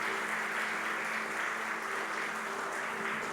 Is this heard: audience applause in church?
yes